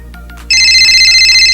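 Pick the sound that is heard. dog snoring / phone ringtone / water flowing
phone ringtone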